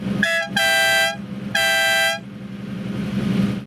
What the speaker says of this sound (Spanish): tiene esa bocina ridícula que suena como una nota musical